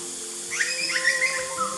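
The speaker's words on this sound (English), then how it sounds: "Hear the butcher birds in the background." Butcherbirds sing in Sydney bushland at Bidjigal, a few faint, fluting phrases drifting from the background over a steady hiss of the bush.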